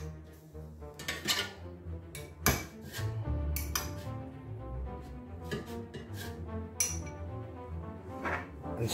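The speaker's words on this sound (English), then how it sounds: "give the mushrooms a mix around" Mushrooms being tossed around in a metal air fryer basket during a full English fry-up, giving repeated clinks, scrapes and rattles of metal and food at close range with no talk.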